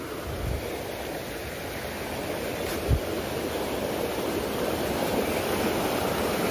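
Steady rushing water of a river that recently carried a flood, heard outdoors as a broad continuous wash with one brief thump partway through and no talking.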